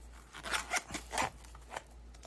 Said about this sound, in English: let's see how it zips up